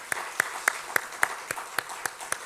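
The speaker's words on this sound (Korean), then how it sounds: "우리 다음 세대 자녀들 위해서 축복하는 마음으로 우리 박수 한번 쳤으면 좋겠습니다." Scattered, spaced hand claps from a church congregation applauding the children of the next generation during a Korean church service, about nine distinct claps at a steady, slightly uneven rhythm over a faint room background.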